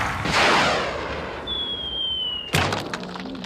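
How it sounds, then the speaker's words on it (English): A human cannonball shot from a circus-style cannon in a children's puppet show: a rushing whoosh, then a thin sustained whistle, ending in one sharp, loud bang-like crash. "a man will be shot out of a cannon. 3, 2, 1, fire!"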